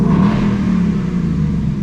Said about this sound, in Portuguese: Cada vez vai ficando mais alto o som do motor.